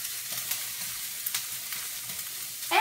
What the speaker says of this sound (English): I'm going to let this simmer fry so that the sausage cooks and the vegetables get a little bit soft